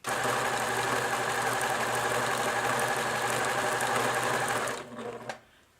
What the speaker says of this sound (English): I'm completing the final step of my binding by satin stitching around my raw edge.